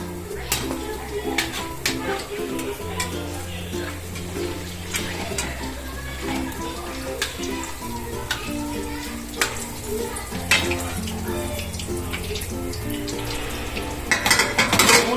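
Dahi vada batter frying in hot oil that is stirred, giving a steady close sizzle with scattered utensil clinks over low, sustained humming tones.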